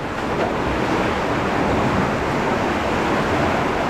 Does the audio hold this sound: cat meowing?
no